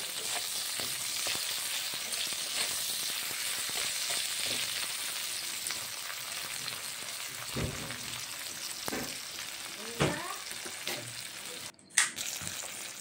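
Salted bitter gourd sizzling steadily in a hot pan, a dense continuous crackle with a few louder spatters and utensil scrapes as the pieces are turned, no talking.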